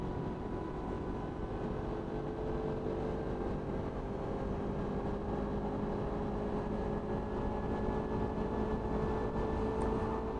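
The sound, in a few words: Suzuki Inazuma motorcycle riding at 60 mph, 7,000 RPM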